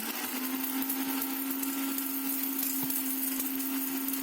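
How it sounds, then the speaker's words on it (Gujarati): A mixer grinder grinds whole garam masala spices, including black peppercorns, in its jar, giving a loud, steady, unbroken motor whine and rattle throughout, with no talking. "આ બધું જ પાછું ભેગું કરી અને મિક્સરમાં આપણે પીસી લઈએ."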